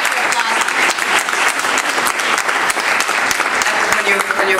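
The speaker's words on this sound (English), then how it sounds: "You should stop right there for applause." Lively audience applause during an interview with a singer, loud and continuous clapping with some voices mixed in beneath it.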